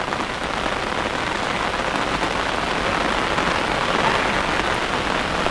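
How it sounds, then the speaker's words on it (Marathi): Heavy monsoon rain pours down in the Konkan countryside during rice planting, a dense, loud, unbroken hiss of drops on surfaces with no voices. "मोठं पाऊस येत असा"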